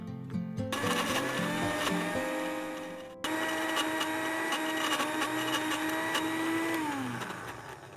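A blender motor whirs loudly and steadily grinding spice paste, with a brief pause and restart partway through, then winds down at the end.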